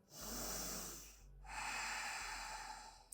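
Deep breathing during a yoga session: two long, close breaths, each a steady airy hiss rising and easing off over about a second, with a brief pause between them and no talking.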